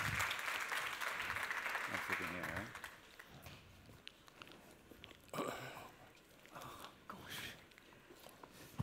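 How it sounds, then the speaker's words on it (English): Applause at a conference panel on heritage and post-crisis recovery, clapping that fades after a few seconds into scattered sounds, with speech following. "Round of applause, please."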